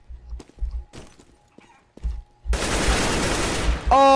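Counter-Strike: Global Offensive gunfire on the Inferno map: a few sharp isolated shots and thuds, then a sustained loud burst of rapid fire, ending with a ringing tone, with a faint voice briefly.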